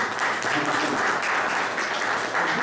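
Sustained audience applause filling a training workshop room on teamwork, steady clapping from many hands throughout with no pauses.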